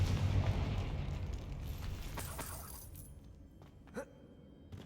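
Blasting-spell explosions in Hogwarts Legacy: a loud booming blast with shattering debris that decays over a few seconds, followed by a smaller sharp burst and crackle near the end.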